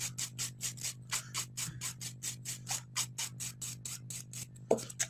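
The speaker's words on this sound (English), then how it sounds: "I'm just going to really lightly buff out the top surface of the nail with a 240 grit file" A 240 grit nail file lightly buffs the top surface of a fingernail, producing a steady run of about twenty quick, even rasping strokes, close and fairly soft over a low hum, with one sharper scrape near the end.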